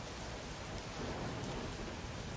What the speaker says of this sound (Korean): 빗소리가 집 전체에 너무 크게 울려 마크 하임의 귀에는 그것이 여러 가지의 소리처럼 들렸다